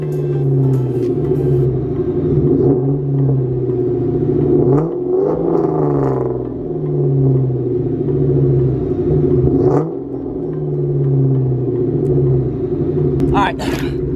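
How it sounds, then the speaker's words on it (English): A car fitted with Borla Stingers mufflers idles with a deep, steady exhaust rumble in a library car park, then gets a few throttle blips that swell into short revs before settling back, close and loud. "while I have the car right here idling, I want to go ahead and, you know, rev it a little bit for you"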